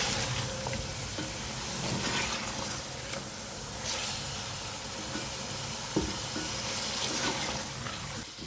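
Water is poured into a pot of browned chicken cooking for pulao, producing a soft, continuous hiss and bubbling sizzle with occasional light clinks of a utensil, fairly quiet and close with no speech.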